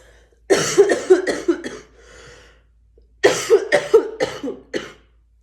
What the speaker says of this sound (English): Damn, I have been so good with my coughing.